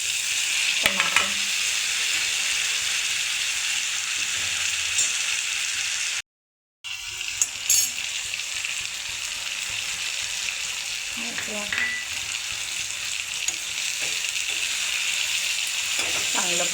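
Tomatoes with ginger and garlic sauté in a pan for malai kofta gravy, giving a loud, continuous sizzle with occasional stirring scrapes and one brief silent cut in the middle.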